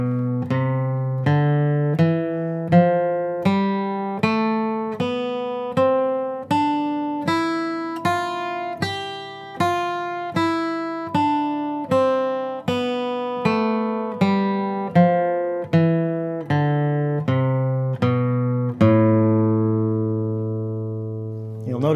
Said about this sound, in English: We could play it ascending, which is where you go from the low register to the high register.